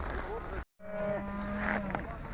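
A cow lows at the Urzhar livestock market: one long, steady moo near the camera, set against the crowd noise and bustle of the cattle sale.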